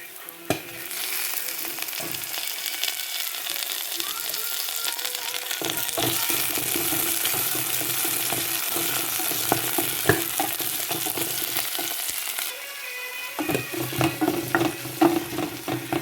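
Tomatoes sautéing in hot oil for a squid and potato curry, a loud continuous sizzle that flares when ingredients go in, with occasional spoon scrapes and clatter.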